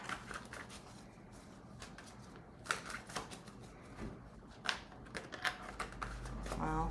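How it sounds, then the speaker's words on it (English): Tarot cards are shuffled in quick, soft flurries of riffling and patter, with irregular sharper flicks scattered throughout, close and fairly quiet, no talking. "Let me just shuffle real quick."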